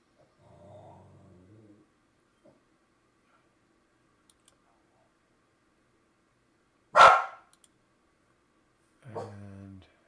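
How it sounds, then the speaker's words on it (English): Puppies barking indoors: a low growly whine, then one sharp loud bark, and later a short whimpering yelp, separated by long quiet gaps. "And just ignore my puppies."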